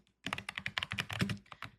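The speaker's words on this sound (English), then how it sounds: "I am going to be typing August 28 for the date." Rapid typing on a computer keyboard, a quick burst of a dozen or so crisp, close key clicks in an uneven rhythm, alone in a quiet room.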